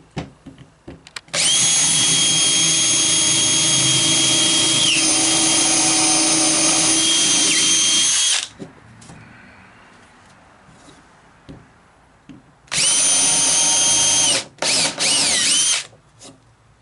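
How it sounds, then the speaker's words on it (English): A loud power drill with a 1/8 inch bit pre-drills wood, whirring steadily for several seconds, stopping, then running again in two shorter bursts, close by with no talking. "What I do is I pre-drill with a 1/8 inch bit."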